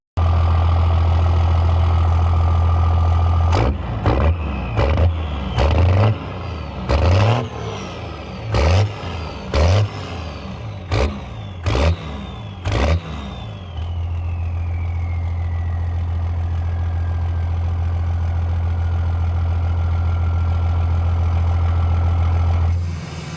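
A Cummins diesel truck engine idles with a deep steady rumble while warming up after a cold start, broken mid-way by a series of sharp revs before settling back to idle.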